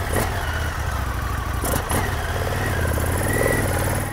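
An Indian motorcycle engine idles steadily and loudly close by, a continuous mid-pitched throb with a couple of brief sharper bursts partway through.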